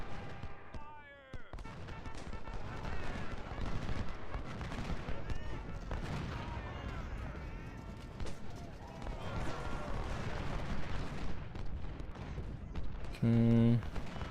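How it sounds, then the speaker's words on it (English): Crackling musket volleys and scattered rifle fire rattle on and off through a Civil War battle at Chickamauga in Ultimate General: Civil War, a dense, continuous din of gunfire with a brief lull near the start. "You'd think that close of a point-blank volley would"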